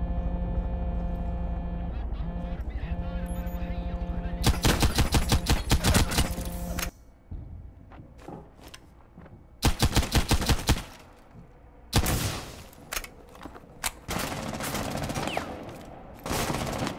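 Pistol gunfire in Rainbow Six Siege, played as the operator Lesion, comes in several sharp, loud clusters of rapid shots, with quieter gaps and in-game movement sounds between them.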